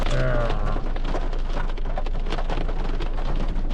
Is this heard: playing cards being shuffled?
no